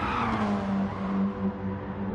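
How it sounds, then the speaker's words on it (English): A race car's tyres squeal while cornering during a circuit race, a loud sustained screech over engine roar that slowly fades. "you could hear the tyres screeching as Caesar's pushing it round the corner"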